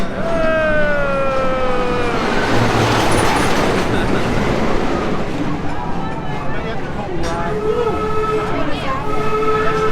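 The train ride at Busch Gardens Williamsburg amusement park rolls along with a loud, continuous rumble, a rising whistle-like tone and wheel noise, while riders' voices carry over it.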